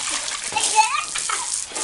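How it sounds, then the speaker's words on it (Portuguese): Children splash water while a pool is being filled, giving bursts of splashing and sloshing against excited kids' voices chattering throughout. "Para de espirrar a água, eu quero encher a piscina."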